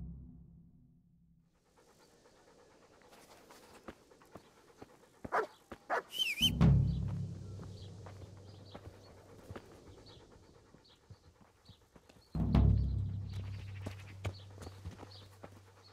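A dog in Kingdom Come: Deliverance pants in quick, soft breaths close by, with horse hooves clopping and a few louder thumps over a faint background.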